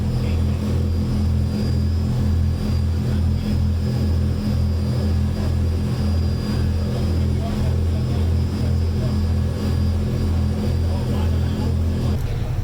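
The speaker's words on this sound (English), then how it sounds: "you can hear how loud it is on the tender boat" Loud, steady engine drone aboard an MSC cruise tender boat ferrying passengers from the MSC Seascape to a tender port, a constant low rumble filling the whole stretch with no break.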